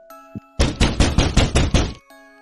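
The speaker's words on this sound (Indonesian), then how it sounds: "Suara ketukan berasal dari pintu belakang." Knocking on a back door comes as a fast run of seven loud, close, evenly spaced thuds, preceded by one quieter tap, in an otherwise quiet room.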